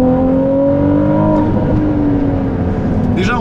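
Ferrari 296 GTB V6 engine pulling hard on open roads, loud and close, a rising then steady droning tone with a rough, buzzy edge and no pauses.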